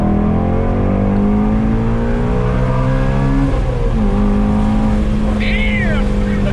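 A 2019 Shelby GT350 engine, loud and close from inside the cabin, rises and falls in pitch through gear changes with blips of revving while rev matching, with voices talking over the steady roar.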